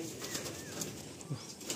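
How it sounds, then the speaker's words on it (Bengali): A male pigeon held in the hand gives faint, soft coos and brief wing flutters, heard close up and quiet against a low background hum. "এই একটা সিঙ্গেল পায়রা, এটা নর পায়রা তাই তো?"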